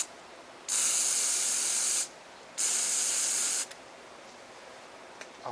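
Two bursts of carb cleaner sprayed into the carburetor of an Echo SRM string trimmer, each a loud, steady hiss lasting over a second with a short pause between, then quiet.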